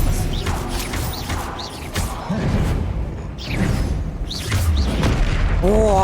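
Expelliarmus spell cast in the Hogwarts Legacy video game, with repeated booming impacts, whooshes and mechanical crashes across a dense, loud battle mix, and a voice faintly present underneath.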